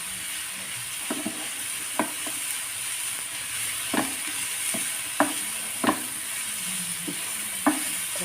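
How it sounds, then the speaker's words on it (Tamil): An onion mixture with turmeric sautés in a pan for a samosa filling, a soft continuous sizzle broken by about a dozen distinct spatula knocks and scrapes at an irregular pace. "மஞ்சள் தூள், அவ்வளோதான். இது கொஞ்சம் நல்லா வதக்கிடுவோம்."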